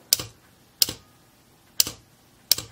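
Four soft, muffled clicks of a relay damped with rubber washers sound at uneven intervals, each a short dull tap with little ring, quiet and close.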